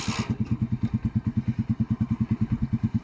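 A motorcycle tricycle engine runs at a steady idle, its exhaust thumping in an even, rapid pulse close by and fairly loud, with no voices over it.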